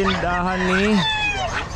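At a pet market, a dog gives a drawn-out whining yelp followed by shorter yips, close and fairly loud against a busy background.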